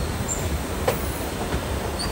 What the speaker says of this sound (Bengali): এখানে আপনারা দেখতে পাচ্ছেন ট্রেন যে ট্র্যাক পরিবর্তন করে এক লাইন থেকে অন্য লাইনে যাচ্ছে